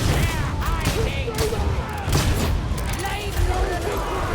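Repeated gunfire from dread gunners in the Warhammer 40,000: Darktide game, a busy mix of bursts and booms with someone talking over it throughout.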